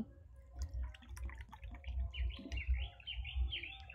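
Water pours into rice flour in a mixing bowl, a trickling stream with a faintly rising ringing tone, while bird chirps sound in the background throughout.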